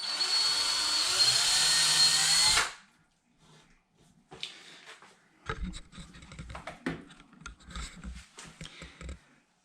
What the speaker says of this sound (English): It might be hitting something in the wood that's making the drill bit move over.